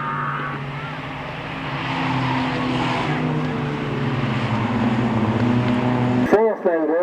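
Race cars head down the pit lane at Croft Race Circuit, a loud, steady drone of engines building slightly over several seconds, with a commentator talking over it before it cuts off abruptly near the end.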